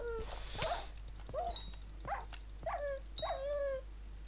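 Wolves in Minecraft Hypixel Skyblock yelp and whimper in a quick run of short, rising calls, fairly faint over a low steady hum.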